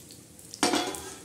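Ground peanuts hit hot oil in a pan and burst into a loud, steady sizzle about halfway through, with stirring scrapes over the frying hiss after a quiet start.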